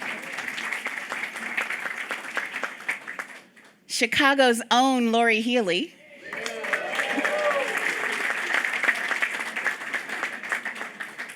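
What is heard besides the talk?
audience applauding new board members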